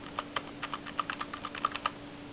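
Keys on a Qcyber Syrin membrane gaming keyboard with reinforced membranes are pressed in a quick irregular patter of muted taps, quiet and close, with a faint hum underneath.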